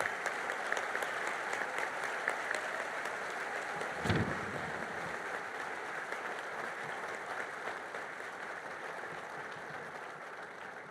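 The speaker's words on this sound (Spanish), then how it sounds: "Quisiera que este aplauso se los enviemos de corazón a cada uno de ellos" Sustained audience applause at a national church-family gathering, a steady wash of clapping that holds at even loudness throughout with one brief louder thump near the middle and no talk over it.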